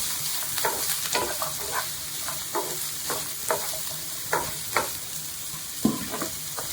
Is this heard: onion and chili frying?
yes